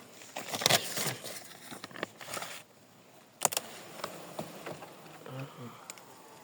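Honeybees buzzing around hives outdoors during mite treatment, with scattered louder passes close by and occasional knocks and rustles.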